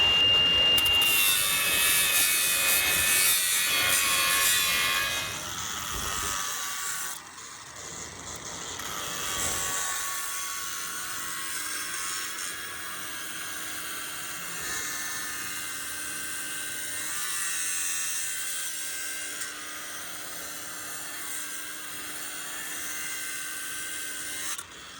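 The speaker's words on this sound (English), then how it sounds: "Now we'll grind this other weld, which is a lot more pronounced and arguably a lot easier to grind because it's sticking so far up." A metal grinding disc works down a tall, pronounced weld bead, giving a loud, steady abrasive whine that dips briefly in the middle and then carries on continuously with no talk.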